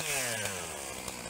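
A STIHL 661 chainsaw cuts through a log held in a Forest Master log lifter, the engine running loud and steady under load at close range, with no talking.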